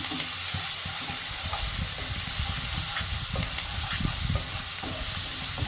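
Onion paste sizzles steadily in a pan for doi katla, a continuous hiss of frying with soft crackles and occasional stirring scrapes, close and even throughout.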